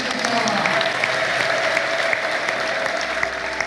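Applause with joyful ululation at a church gathering, a dense, steady wall of clapping and high trilling voices that holds loud and continuous throughout.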